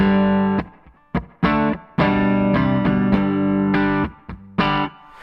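Chords on an electric guitar ring out drenched in reverb, several strummed hits with washy tails decaying between them, played alone without any voices.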